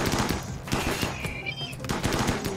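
Automated turrets firing during a colony defense in RimWorld, a dense, continuous rattle of rapid gunfire bursts with sharp cracks layered over each other, loud and close throughout.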